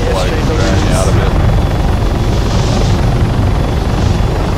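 A helicopter flying in the video game Arma 3 gives a loud, steady rotor and engine drone that fills the whole stretch without letup.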